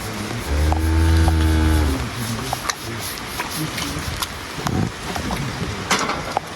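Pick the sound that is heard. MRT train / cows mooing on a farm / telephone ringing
cows mooing on a farm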